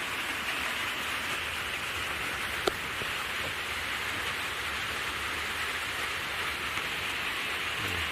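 Steady rain pours on a small forest hut, a dense even hiss holding at one level throughout with a single sharp tap partway through.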